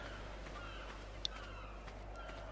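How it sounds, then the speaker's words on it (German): Birds calling in the Ark: Survival Evolved game world, a few faint, scattered cries over a steady low background hum, with one sharper, brief chirp standing out. "Vögel."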